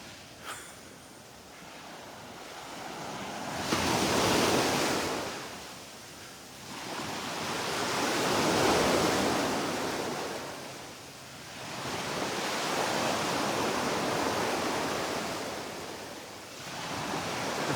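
Surf rolls onto the beach at Delnor-Wiggins park, with broad washes of wave noise swelling and fading in slow cycles every few seconds, steady and fairly close, with no one speaking.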